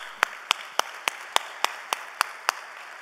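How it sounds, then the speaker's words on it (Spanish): A single pair of hands clapping in slow, even rhythm at a public presentation, about nine distinct sharp claps spaced evenly over a quiet room background, close and fairly soft, with no talking. "Y les voy a dar un aplauso nuevamente yo a ustedes."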